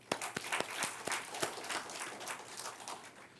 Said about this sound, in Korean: 야, 박수 한번 줍시다.